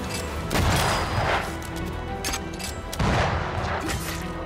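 Gunfire in the video game Banishers: Ghosts of New Eden comes as two heavy bursts of booming shots amid loud combat noise, close and dense, with no speech.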